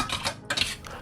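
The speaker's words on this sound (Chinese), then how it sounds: "1杯清水 ，1勺淀粉，搅拌均匀" A spoonful of starch stirred into a cup of water in a bowl, mixing a slurry for sweet and sour pineapple pork: a few close scraping, clinking strokes of a utensil against the bowl, with no talk.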